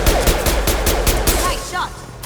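Rapid bursts of gunfire from Mass Effect 2, loud and close, with repeated sharp shots through the first second and a half before the firing tapers off into fainter game effects.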